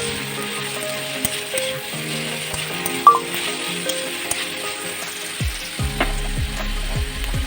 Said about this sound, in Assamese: এয়া এইখিনি ভালদৰে লৰাই থাকিম